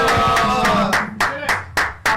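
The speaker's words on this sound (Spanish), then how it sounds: "¡Aplausos!" Studio audience on a live Argentine stream show clapping in time, a group of sharp rhythmic claps at a steady beat, loud and close with a few voices mixed in underneath.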